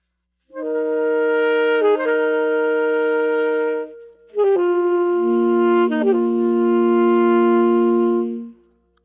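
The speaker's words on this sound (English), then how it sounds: "the predictable bagpipe sound is a melody happening over A long held note. one long held note called a drone." A bagpipe-style melody plays in two loud, reedy phrases over a continuous held drone note, with a short break between them and the melody stepping between pitches. It is part of a children's music outreach demonstration.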